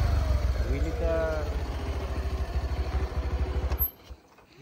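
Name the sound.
motorcycle starting without a key via Bluetooth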